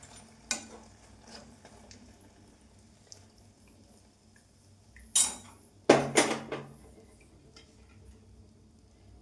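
Fried samosas are lifted out of a pan with a metal utensil, giving sparse clinks and scrapes with a few louder clattering knocks near the end, set against quiet background.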